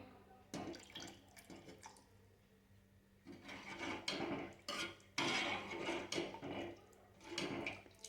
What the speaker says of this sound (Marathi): थोडंसं पाणी ॲड करते मी अजून यामध्ये